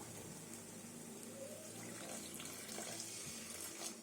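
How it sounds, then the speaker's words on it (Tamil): Water poured into a cooking pan for South Indian chicken curry with onion, ginger and garlic: a soft, steady splashing trickle, faint and close, continuous for a few seconds with no talking. "ஸோ இதில் வந்து தண்ணி சேர்த்துக்கிறோம்"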